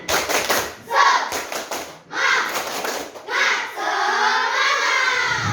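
Children in a classroom do a rhythmic spirit clap, quick patterned bursts of hand claps and taps repeated in short groups, with young voices chanting along near the end.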